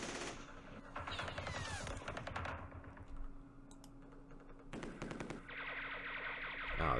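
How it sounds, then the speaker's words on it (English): Rapid bursts of gunfire from the strategy video game Campaign Series Middle East, machine-gun rattles in several clusters separated by short pauses, crisp and close with no talking. "Just do some more shooting."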